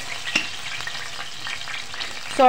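Garlic paste sizzles and crackles softly in hot oil, with a few light stirring scrapes and a brief clink near the end.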